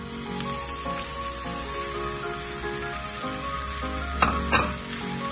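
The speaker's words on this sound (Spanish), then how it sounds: "en un sartén por aparte vamos a agregar un poquito de mantequilla clarificada y vamos a sofreír nuestra jaiba" Crab sautés in clarified butter in a frying pan, a close, steady sizzle with an underlying hum and two brief louder bursts of spattering near the end.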